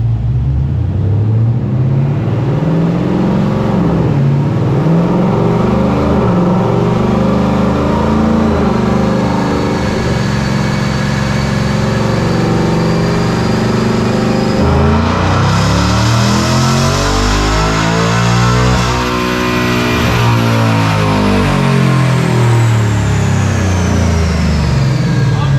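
A Ford Mustang GT engine revs hard on a dyno, a loud continuous roar climbing steadily through the gears, dropping and rising again toward the limiter.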